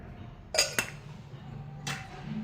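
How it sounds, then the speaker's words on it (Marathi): A metal kadhai is set down on a kitchen stove with two quick, close clanks, followed by a softer third knock a moment later against a quiet room background. "कढई ठेवली आहे, कढईमध्ये तेल टाकायचं आहे"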